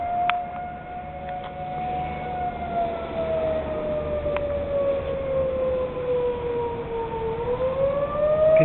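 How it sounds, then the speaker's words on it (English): Civil defense sirens wail during a tornado warning in Mayfield, Kentucky, a loud, sustained rising and falling tone carrying across the area, with no talking. "Sirens are going off."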